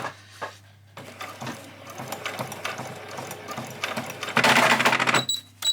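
A sewing machine back stitching a couple of stitches while sewing fairy wings runs in short bursts of mechanical whirring and clicking, ending in a louder, faster run near the end.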